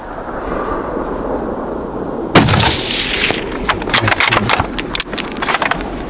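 Rifle shot fired at a brown bear during a spring hunt in Alaska, one sharp loud crack followed by a rolling outdoor echo, then scattered fainter knocks and movement against wind-like background noise.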